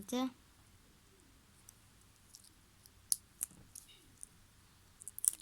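A gum gift package being opened, faint crinkling of plastic wrap and scattered small clicks and tears in a quiet room.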